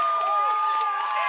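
Crowd noise rises at a high school volleyball match, the MSHSL third-place game between Hawley and Mounds Park Academy, just after a kill; a dense, steady roar of voices and cheering lasts the whole short stretch.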